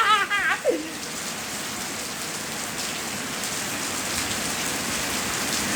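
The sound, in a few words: heavy rain falling at a cemetery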